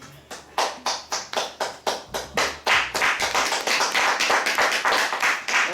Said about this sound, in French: On les acclame, les heureux.